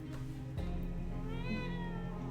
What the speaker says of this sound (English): Ooh, the cat.